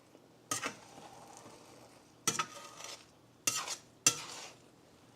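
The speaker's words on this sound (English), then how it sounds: "it's time to stir the eggs." Eggs stirred in an electric skillet, with four distinct scraping strokes rising over a faint, steady sizzle, separated by quieter gaps.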